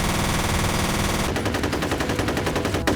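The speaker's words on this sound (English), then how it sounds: "most automatic weapons like the assault rifle and SMG fall flat" Automatic weapon fire in the shooter game F.E.A.R.: a rapid, loud burst of rounds in quick succession, close and unbroken, with a steady roar before the rapid bursts start.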